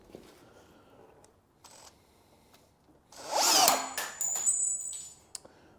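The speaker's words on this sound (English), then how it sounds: "This is a size Q drill bit. We're going to drill these out on both sides" Size Q drill bit boring out bolt holes while fitting Wilwood disc brakes: a few faint clicks and handling noises, then a loud burst of drilling of about two seconds with brief follow-up spurts.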